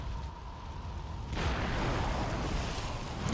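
A missile strikes the player's aircraft in the flight simulator Falcon 4 Allied Force, a sudden broad rumbling blast that swells over the steady engine drone and lingers as a sustained roar.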